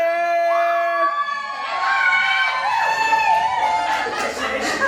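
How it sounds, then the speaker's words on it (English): A family shouts and cheers at a child's first birthday party, with one high sustained cry rising into a busy mix of excited voices and scattered clapping nearby. "Let's clap it up for Elan!"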